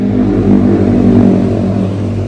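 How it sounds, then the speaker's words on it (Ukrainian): Motorcycles revving and passing near a residential yard in spring, a loud, close engine drone with a rise and fall in pitch over a couple of seconds, no voices. "Ох, ці мотоциклісти!"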